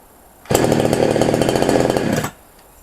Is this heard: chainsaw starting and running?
yes